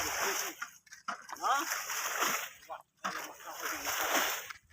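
Water sloshes and splashes in repeated scooping bursts as it is bailed with a bucket in a village in Pirganj, Thakurgaon, each burst followed by a brief pause, with a voice talking over it.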